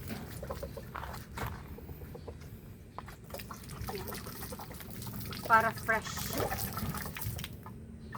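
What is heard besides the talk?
water poured on ground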